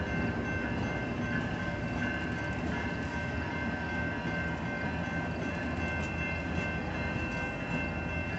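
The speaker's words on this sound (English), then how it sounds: "I hear Amtrak" An Amtrak train rolls past, a steady, fairly faint rumble with faint tonal hums carried over a distance, continuous with no voices.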